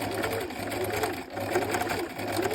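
A sewing machine stitches fabric close to the edge with a continuous, steady whirring hum at close range, running without pause.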